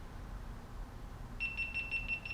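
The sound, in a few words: GoPro Hero11 camera beeping as it powers off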